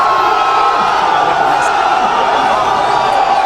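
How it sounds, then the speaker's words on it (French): A dense crowd gathered to celebrate a new football federation president shouts and cheers loudly, shrill cries and whoops merging into a continuous roar for the whole stretch. "Son apparition s'accompagne de cris stridents."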